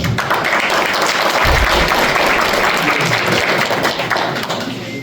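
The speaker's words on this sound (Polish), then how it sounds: "Wielkie brawa." Sustained, loud applause from a congress audience for a cleaning and laundry industry event, dense steady clapping that holds for several seconds before easing slightly at the end.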